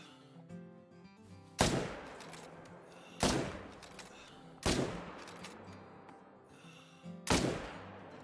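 Four loud, sharp hunting rifle shots in the Call of the Wild hunting game, spaced a second or two apart, each with a quick echoing decay over a quiet outdoor backdrop.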